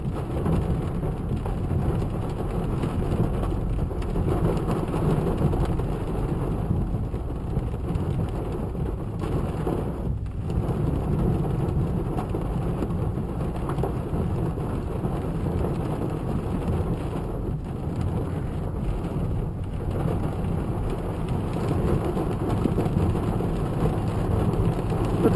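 Hail and heavy rain pour down in a thunderstorm near Crystal Lake on a mountain road, a dense, unbroken roar of drumming drops that holds steady throughout.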